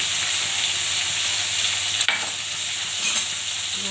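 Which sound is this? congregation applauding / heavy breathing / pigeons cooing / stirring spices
stirring spices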